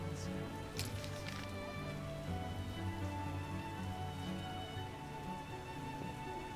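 Steady rain pours down in a scene from The Witcher, a constant dense patter with a brief splash near the start and a low ambient hum beneath.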